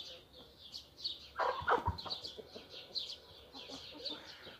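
Hens cluck and murmur in a henhouse, a mix of short, uneven calls and some scuffling, with a brief louder burst of movement partway through.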